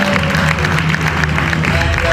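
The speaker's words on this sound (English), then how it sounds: "please let's give a round of applause for Wally Shoyinka Prof." An audience at the Lagos International Theatre Festival claps in a dense, continuous burst of applause, close and loud, with a murmur of crowd voices mixed in.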